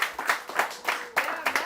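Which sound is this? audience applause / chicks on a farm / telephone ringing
audience applause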